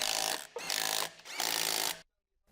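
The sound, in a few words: electric impact wrench tightening Jeep Wrangler wheel hub bolts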